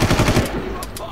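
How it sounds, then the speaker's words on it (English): Rapid automatic gunfire in the video game Far Cry, a fast rattling burst of closely spaced shots up front, then a couple of sharper isolated cracks, loud and near. "I'm gonna shoot through."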